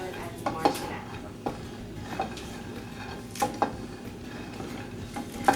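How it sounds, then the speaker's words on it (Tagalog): A wooden spoon stirs peanuts in a pan while Thai dishes are being cooked, giving a few scattered knocks and clatters over a low, muffled kitchen background. "Can you get a wooden spoon and can you mix my peanuts, please?"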